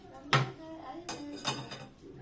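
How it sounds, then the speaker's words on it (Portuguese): A metal cooking pot set onto a lit stove while making fish curry with coconut gives one sharp, close clank, followed by a few softer knocks and scrapes of cookware. "Vamos pôr a panela."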